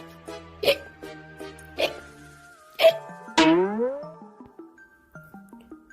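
A storyteller voices playful vocal imitations of a skeleton's hiccups, several short squeaky hiccup sounds spaced across the clip with a sliding gulp in the middle, fairly close and clear with no other talk.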